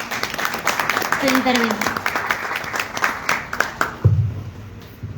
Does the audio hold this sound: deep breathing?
no